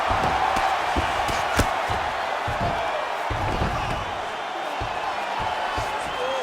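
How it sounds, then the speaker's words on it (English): An arena crowd roars steadily during an EA Sports UFC 5 women's bout after a grueling ground battle. The hiss of the crowd fills the background under scattered thuds and commentary. "you heard the crowd pop after that grueling ground battle"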